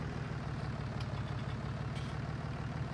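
A John Deere tractor engine in Farming Simulator 19 runs at a steady low rumbling drone, a constant heavy diesel hum with faint periodic clicks, alone and unbroken throughout.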